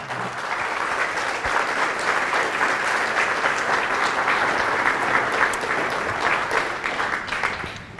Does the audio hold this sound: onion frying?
no